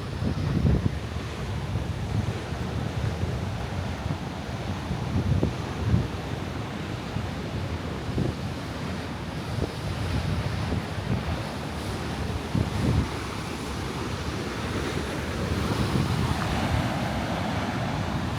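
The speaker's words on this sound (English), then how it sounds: "Imagine getting smashed into those rocks by those waves if you're surfing." Rough ocean surf crashes against rocks on the coast at Half Moon Bay, California, a dense, continuous roar mixed with gusting wind buffeting the microphone, steady and loud throughout.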